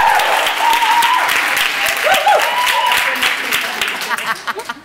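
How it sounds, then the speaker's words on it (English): A breakout-session audience at a Sky Sports-supported event claps and cheers loudly for several seconds, a dense wash of applause with raised voices that thins out toward the end. "So I think for Nia and Sky Sports, let's give the biggest cheer you can."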